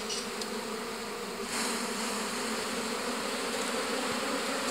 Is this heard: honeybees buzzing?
yes